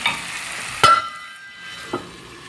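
Quail roast masala with tomatoes is mixed in a pan, a sharp metal scrape of the spoon followed by a fading hiss and a softer second tap, short and close with no talking.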